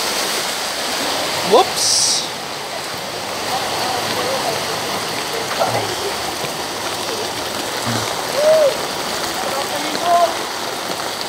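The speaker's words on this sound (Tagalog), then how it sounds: "Baha, wala tayong magagawa." Floodwater rushing during Typhoon Ulysses gives a steady, broad roar of moving water that fills the whole scene, with a brief spoken exclamation and faint voices over it.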